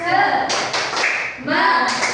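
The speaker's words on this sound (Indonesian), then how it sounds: "Lagi tepuk semangat." Children doing a rhythmic spirit clap at a class session, bursts of clapping in a patterned beat mixed with voices chanting along.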